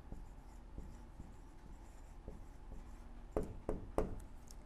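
A pencil writes on paper in a notebook set up for nature journaling. Faint, steady scratching is heard up close, with a few light taps and strokes, then a cluster of sharper marks near the end, with no voices.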